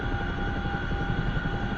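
A CH-47 Chinook helicopter in the DCS flight simulator drones steadily with a dense, continuous rotor and engine roar, loud and close throughout with no voices.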